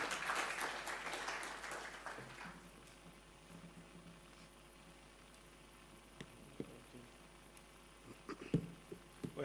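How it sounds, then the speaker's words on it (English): Audience applause for a bank executive director at an African climate roundtable, a dense clatter of clapping that swells loudly at first, then thins to a scattered patter under a low room hum. "You can applaud."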